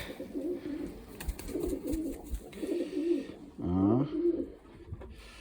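Domestic pigeons with freshly hatched squabs coo in the breeding season: soft, repeated throaty coos, one rising clearly near the middle, over a steady murmur of background noise.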